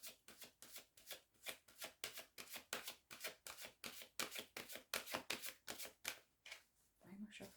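Tarot cards shuffled by hand in a steady run of crisp riffling bursts, each a quick papery flutter, with a faint voice at the very end.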